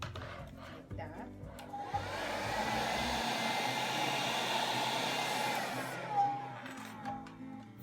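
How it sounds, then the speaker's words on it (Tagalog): A wet and dry cordless portable vacuum cleaner runs with a steady, loud whirring drone that holds for several seconds, with brief shifts in pitch near the start and end. "this is a wet and dry cordless vacuum cleaner"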